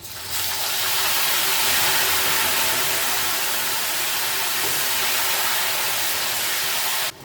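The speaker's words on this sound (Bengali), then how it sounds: "এবার আমি নুন জলটা দেবো, নুন হলুদ জল 1 চামচ ব্যাস।" Salt-turmeric water splashes into a kadai of nearly fried green plantain chips, setting off a loud, continuous hissing sizzle that runs steadily for several seconds and then cuts off.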